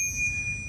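A bicycle bell fitted on a motorized bike gives one bright ding that rings on clearly with a sustained metallic tone, alone and close.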